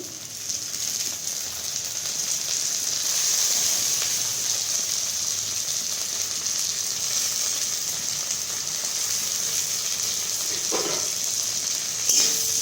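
Tomatoes go into a pan of reddish fried onions for an egg tarka, giving a steady, bright frying hiss that runs continuously, with a couple of brief utensil knocks toward the end and no talk.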